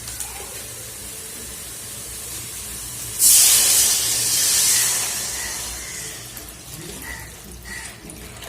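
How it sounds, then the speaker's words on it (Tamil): Tamarind water is poured into a hot pan for crab soup, setting off a sudden loud burst of hissing steam that gradually fades into quieter bubbling and spitting, with faint background voices. "இப்போ புளி கரைசலை ஊற்றிக்கலாம்."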